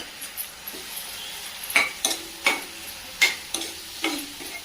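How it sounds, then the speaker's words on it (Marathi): Raw ground onion paste sautéed in a kadhai for dhaba-style kadhai paneer, with a steady soft sizzle under a run of sharp, rhythmic spoon-scraping strokes against the pan. "कांदा छान परतून घेऊया"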